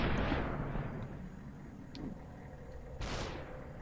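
Gunfire in the video game Superhot sounds as a few sharp, booming shots with sweeping whooshes, close and loud over a dull rumbling background.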